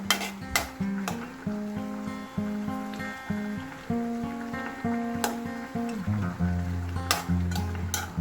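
Pechay with sardines sizzling in a pan, a soft frying hiss under rhythmic scraping strokes of a spatula against the pan, with a few sharp metallic knocks, close and steady.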